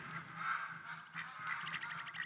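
Geese honk and ducks call in The Hunter: Call of the Wild video game, several nasal honks in a loose series, fairly faint as if some distance away, with no talk.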